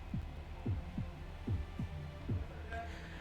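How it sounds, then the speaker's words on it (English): A slow, steady heartbeat thumps in a castle in the video game Fate/Grand Order, about six low beats over a dark hum, faint and ominous. "Just listen to that heartbeat."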